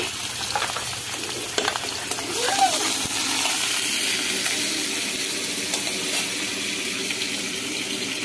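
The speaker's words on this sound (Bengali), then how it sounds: "কড়া গরম হয়ে গেছে, তেল দিয়ে দিচ্ছি। বন্ধুরা তেল গরম হয়ে গেছে, পেঁয়াজ কুচিটা দিয়ে দিলাম।" Chopped onions hit hot oil in a heated kadai and fry with a steady moderate sizzle. A short clatter sounds early on, and there is no speech.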